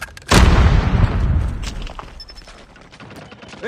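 A frag grenade blasts in Call of Duty Mobile, one sudden loud boom that decays into a rumbling tail over a few seconds.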